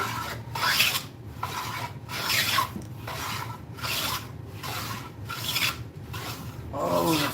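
Hand tool being sharpened with a file, rhythmic back-and-forth rasping strokes about every second, close and crisp, eight or so passes in a row.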